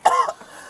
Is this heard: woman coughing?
yes